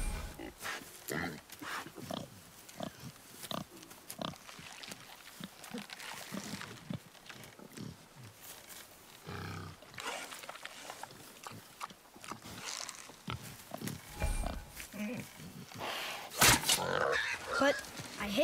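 A wild boar grunts and snorts repeatedly in God of War, rough piglike oinks scattered through the scene while people talk over it, growing louder toward the end.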